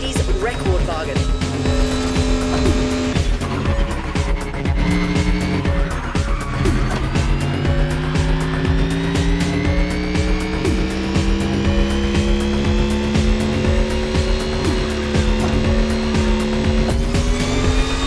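Mercedes Silver Arrow electric car driving in The Crew Motorfest, a steady rising motor whine with tire noise running throughout, under continuous talk.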